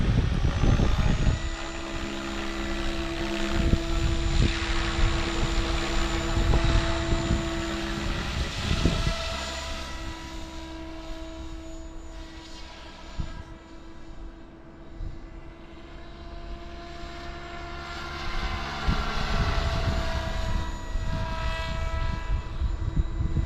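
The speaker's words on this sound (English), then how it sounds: "Nice Heli." Kraken 580 RC helicopter flying outdoors on a windy, gusty day, its high rotor whine and engine drone rising and falling as it passes nearer and farther, with wind buffeting throughout and no talk.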